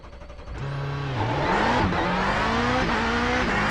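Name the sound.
Subaru rallycross car engine racing in iRacing video game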